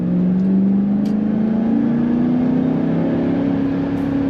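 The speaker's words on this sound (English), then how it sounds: "There's that wonderful sound as it revs up." A 2002 Chevrolet Camaro Z28 convertible's V8 engine drones loudly and steadily, its pitch slowly climbing as it revs up, heard from inside or close to the car.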